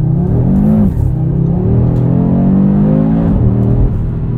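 A 2022 Audi RS 3 engine pulls hard in S mode with an automatic gearbox, its loud, close drone climbing steadily in pitch through the rev range, dropping briefly at a shift near the end before rising again.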